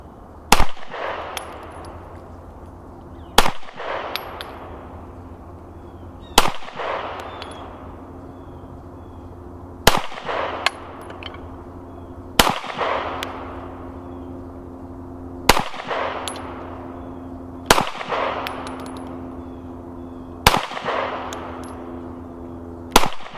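A Smith & Wesson M&P 1.0 pistol fires eight loud, sharp shots at a steady pace about three seconds apart, each one followed by a short ringing decay, with no talking.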